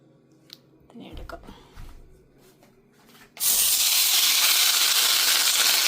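A banana-leaf-wrapped ottada with ethapazham goes into a hot cheena chatti after some soft handling and bumps, then a sudden loud, steady sizzle erupts and holds, close and strong.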